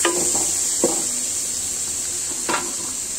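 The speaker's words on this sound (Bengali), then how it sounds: "এখানে চুলায় পেঁয়াজ আদা রসুন এগুলো দিয়েছি।" Onion, ginger and garlic sizzle in a pan on the stove while dal is being tempered. A steady, bright frying hiss runs throughout, broken by a few soft clinks as the spoon stirs.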